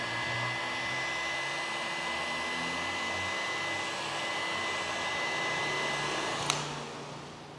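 A heat gun warms a car body panel for paintless dent repair. It gives a steady, loud blowing whine with a constant tone throughout, and a brief click comes near the end. No voices are heard.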